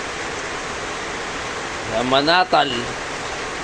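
Steady rain falls in Pandi, Bulacan, a continuous broadband hiss that runs the whole time, with a short stretch of speech about two-thirds of the way through.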